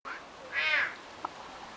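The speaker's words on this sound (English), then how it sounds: "Several of the kitty cats were making noises, and that was really fun." A big cat at a zoo gives one drawn-out, mewing call lasting under half a second, fairly faint against steady background noise, followed by a short soft click.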